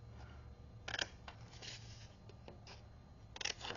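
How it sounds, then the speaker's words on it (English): Scissors snipping the corners out of a paper pocket for a Hallows Eve folio craft, a few crisp close cuts with quiet pauses between them, faint and without any talking. "we're going to go ahead and cut out those corners"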